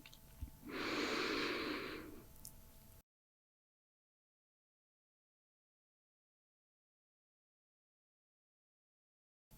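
During a breathing exercise, one long, deep belly breath comes in close and clear, with soft airy sounds. Silence follows.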